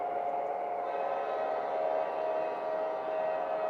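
An O-gauge Proto 3 model train horn gives a steady, sustained tone of nearly four seconds, faint and alone with no talking.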